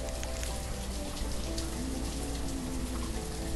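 Steady rain falls in the village-building game Banished, a dense continuous patter of drops with a low rumble beneath, even and unbroken throughout.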